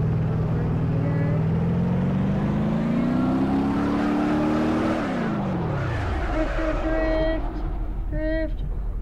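Simulated car in BeamNG.drive revving with a rising engine whine, then sliding into a drift as the pitch drops and tyre noise swells, with a person talking over the driving sounds.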